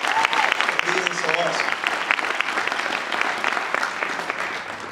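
A seminar audience applauds the staff with dense, steady clapping that holds strongly throughout, with some faint voices mixed in.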